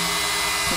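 A hair dryer blows steadily and close up while drying a watercolour postcard painting, giving a constant whirring roar with a faint motor hum beneath.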